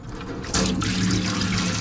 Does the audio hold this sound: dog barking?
no